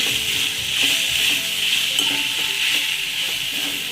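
Coriander sautéing with onion, ginger and garlic in a pan for a Malvani masala paste gives a loud, continuous hiss of frying, with soft stirring scrapes throughout and no voices.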